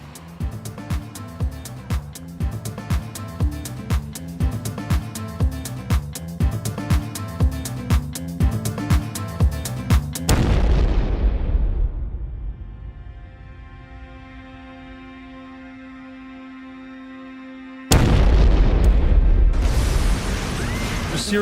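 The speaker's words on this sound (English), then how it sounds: "Havana's luxury hotels, a vital source of foreign currency, have been hit by a spate of bombings." A bomb explosion at a luxury hotel in Havana, heard as rapid rhythmic pounding that gives way to a deep booming blast and a long fading rumble, then another heavy burst near the end.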